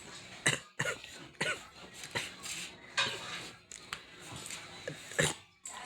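Several short, sharp coughing bursts spaced irregularly, close and fairly loud, with brief quiet gaps between them.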